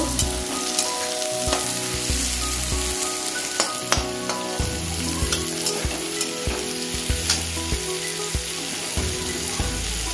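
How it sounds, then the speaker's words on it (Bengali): Onions frying in a pan until reddish for a pointed gourd and paneer curry with poppy seed, a steady loud sizzle with repeated stirring and scraping knocks, no talking. "পেঁয়াজগুলো একটু লাল লাল করে ভেজে নেব।"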